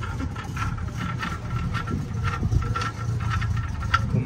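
BMW 730 with a valved aftermarket exhaust idling nearby, a steady low burbling engine note with a faint rhythmic pulse, no talk over it.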